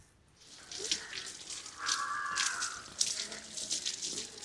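Tap water runs steadily into a container for washing a kind of greens, a continuous splashing, rushing flow that rises slightly in pitch as it fills, close by with no talk.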